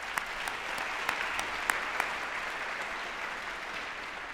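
An audience at an MLK Day community celebration applauds community leaders, with a steady wash of clapping and a few sharper claps standing out early, holding fairly even.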